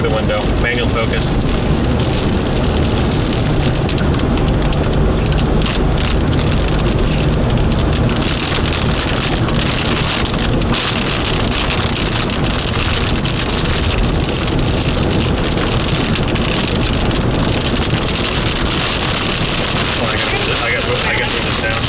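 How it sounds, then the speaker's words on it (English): Steady rain pours during a storm chase in central Oklahoma, a dense broadband wash heard from inside a vehicle, with wind buffeting and occasional voices talking over it throughout. "Raining."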